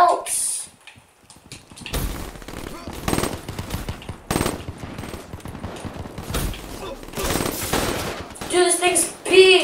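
An M8A7 rifle fires in a video game in quick, repeated bursts, sharp and close, broken by short pauses while players chatter excitedly over the shooting.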